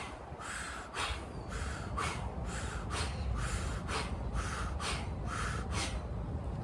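Someone does a controlled breathing exercise in a cold environment, with about eight sharp, evenly spaced breaths pulsing close to the microphone over a low background hiss.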